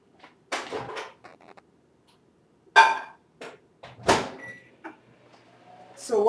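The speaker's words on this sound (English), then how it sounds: "I'm going to put it in the microwave for 30 seconds." Sharp clunks and clicks of a microwave door and buttons, with a few short electronic beeps, separated by quiet pauses.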